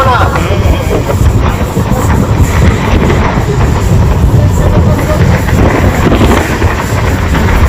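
A loud, steady rumble of a moving train in the evening, travelling from Chennai toward Madhya Pradesh, with rhythmic clattering and rushing wind noise, heard from onboard and continuing throughout.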